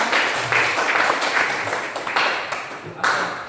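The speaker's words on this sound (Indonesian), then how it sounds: "Boleh kita kasih tepuk tangan dulu?" Applause from a class of students during an Indonesian sociology teacher training session, a loud burst of dense group clapping that rises and falls in waves, then tapers off.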